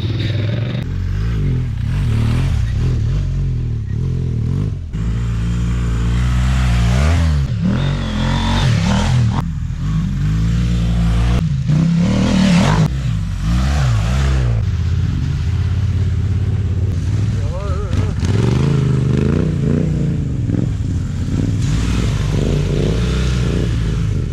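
Adventure motorcycles ride hard over a rough track, their engines droning and revving up and down with loud rumble and clatter from start to finish, close and continuous, with no talk.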